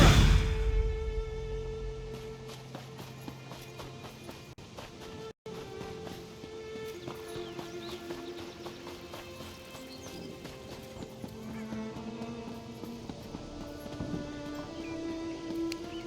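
Horse hooves clip-clopping in the Elder Scrolls Online video game, a steady rhythmic plodding over background game music and ambience, moderately loud and continuous.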